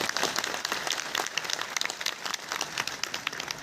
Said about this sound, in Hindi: एक बार तालियों से सबका स्वागत किया जाए